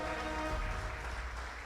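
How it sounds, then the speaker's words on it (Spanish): Church congregation applauding during a Spanish-language worship service, a dense steady wash of clapping that carries evenly through the short moment with no voices over it. "Dele un aplauso al Señor."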